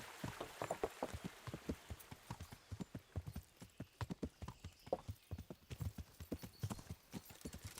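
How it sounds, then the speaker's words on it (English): Horse hooves clip-clopping in Kingdom Come: Deliverance, a quick irregular run of close, distinct hoof strikes on the ground without speech. "Wow, horsey, slow down."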